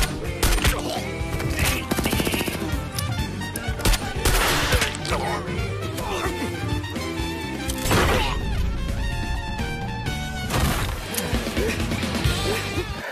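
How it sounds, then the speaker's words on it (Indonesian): Film gunfight with rapid bursts of gunfire, impacts and crashes layered over dense music and effects, loud and continuous throughout. "terjadilah baku tembak antara Rei dengan semua penjaga yang ada di lantai tersebut"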